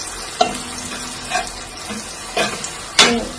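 Tomatoes for chicken curry frying in oil in a pan, stirred in four separate scraping strokes spread over a low, steady background sizzle, close and moderately loud.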